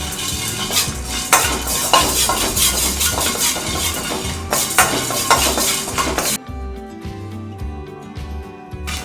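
Steady scraping and clinking of a spoon stirring dry spices (black pepper, cumin, dried red chilies) dry-roasting in a clay pot, a continuous busy rattle that thins out near the end.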